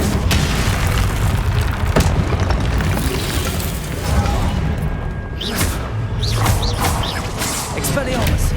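Confringo explosion spell bursts in Hogwarts Legacy combat, booming blasts mixed with other spell impacts and crackling effects, loud and continuous throughout the fight.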